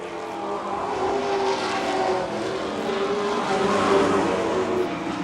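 Late model stock race cars roar around a short track in a continuous loud drone, engines layered together and rising slightly as the pack sweeps past, with no voices.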